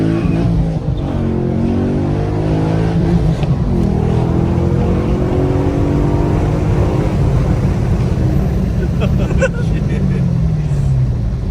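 A Chevrolet SS fitted with a new cam and cylinder heads accelerates hard, its engine note rising steadily and loudly from inside the car while people talk over it.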